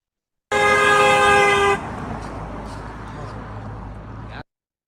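A passing car gives one long loud blare of its horn, then drives on with a fading engine and road rumble outdoors.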